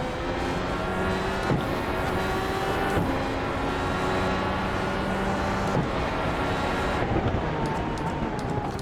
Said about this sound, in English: Let's turn the engine up.